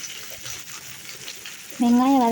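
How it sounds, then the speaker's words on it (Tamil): Onions frying with salt in a pan for a spicy brinjal thokku: a low, steady sizzle with faint stirring, then a louder, tonal, voice-like sound enters near the end. "வெங்காயம் வதங்குறதுக்காக நான் கொஞ்சம் உப்பு சேர்த்துக்கிட்டேன். உப்பு சேர்த்து நல்லா கிளறி விட்டுக்கோங்க."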